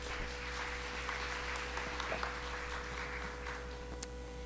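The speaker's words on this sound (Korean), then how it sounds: "박수로 환영해 주시기 바랍니다." Steady applause from a forum audience welcoming a speaker, a dense patter of many hands clapping at moderate distance, with a faint electrical hum underneath.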